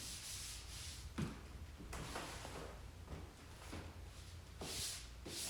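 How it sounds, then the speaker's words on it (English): Hand sanding of dried drywall joint compound in an inside corner, quiet rhythmic scratchy strokes rubbing back and forth close up, with short pauses between passes. "I'm sanding out the corner."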